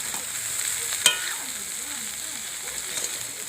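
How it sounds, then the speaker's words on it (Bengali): Egg chowmein with potato is stirred as it fries in a pan, giving a steady hissing sizzle with one sharp utensil clank early on and lighter scrapes later. "এবার ভালো করে নেড়ে নেব।"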